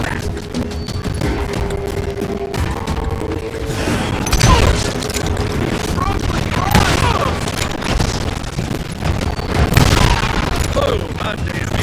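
Gunfire in the western shooter Call of Juarez Gunslinger, with dense, loud volleys, booms and mechanical clatter layered over continuous game noise.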